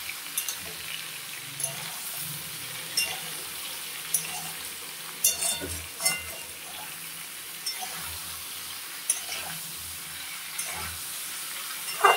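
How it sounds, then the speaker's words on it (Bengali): Soybean chunks and potatoes fry together in a pan for a vegetarian dish, giving a steady close sizzle with scattered stirring scrapes and clicks and no voices. "তো বন্ধুরা সয়াবিনগুলো দিয়ে দেব, একসঙ্গে ভাজা হবে।"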